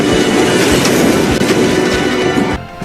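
Loud, continuous rumble and rattle of a fast train in a film chase scene, dense clattering throughout, cutting off abruptly near the end.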